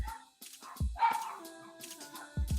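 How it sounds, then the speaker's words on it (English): Dogs bark in short sharp yips and woofs nearby, a few barks in quick succession. "they're freaking barking at something"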